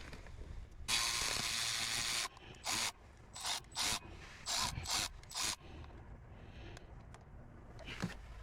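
A 10mm socket on a ratchet works loose a solenoid bolt on a 2019 Kia Forte engine, starting with a long ratcheting buzz and then a series of short ratchet bursts close by.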